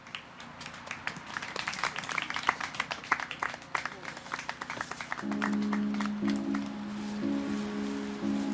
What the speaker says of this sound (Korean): 박수로 모셔주십시오.